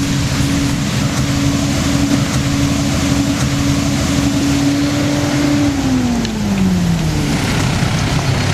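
A walnut sweeper machine's engine runs at a steady, loud drone throughout, with a sustained tonal hum that bends downward near the end as the revs shift, plus some rumble and wind buffeting.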